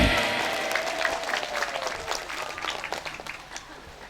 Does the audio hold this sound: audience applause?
yes